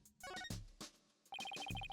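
Electronic phone ringtone in the Ace Attorney: Dual Destinies video game, bright repeating beeping tones in short bursts, with music or effects around them.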